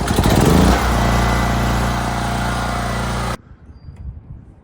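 Generac 10,000/8,000-watt portable gas generator starting up and running, a loud steady engine drone close by that cuts off abruptly near the end, leaving quiet room noise.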